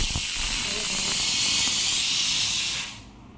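A pressure cooker cooking mung beans releases a loud, steady hiss of steam for nearly three seconds, then cuts off abruptly into near silence.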